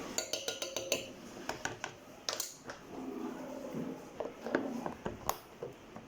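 A metal spoon clinks and taps against a pot in a quick series of sharp, faint ticks, with a few scattered clatters in a quiet kitchen.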